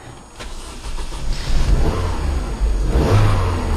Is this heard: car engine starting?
yes